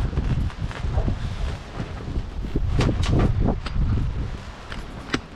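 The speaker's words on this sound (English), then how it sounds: "It's windy as all get out here." Gusty wind buffeting the microphone outdoors, a rough low roar that rises and falls, with a few brief knocks and rustles.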